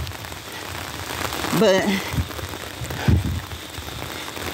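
Steady rain falls on surfaces at night during Hurricane Helene in Georgia, with a constant hiss and patter. Someone says a word partway through.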